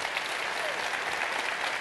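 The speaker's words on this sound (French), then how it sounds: "Applaudissez." An audience at a talk claps in a dense, steady burst of applause, loud and continuous for the whole stretch.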